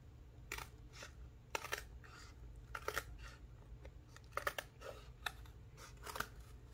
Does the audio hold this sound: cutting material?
yes